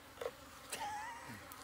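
Bees buzzing around a honeycomb harvest, a faint, steady insect drone with a few brief louder passes close by, alone without talk.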